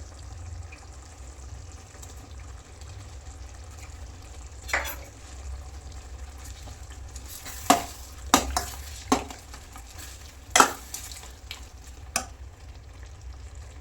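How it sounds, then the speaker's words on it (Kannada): A pot of bitter gourd gojju simmers and bubbles steadily at close range, with a few sharper clinks and stirring knocks partway through and no talking. "ಚೆನ್ನಾಗಿ ಬೆಂದಿರುತ್ತೆ, ಕುದೀತಾ ಇದೆ."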